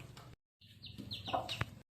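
Chickens, just fed scattered rice, cluck in a few short, throaty bursts, fairly close but quiet, broken by a brief silence at the start and end.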